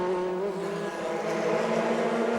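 Porsche GT class race cars pass in line astern at the 2003 Le Mans 24 Hours, engines droning with a steady high whine and a slight pitch shift as they go by.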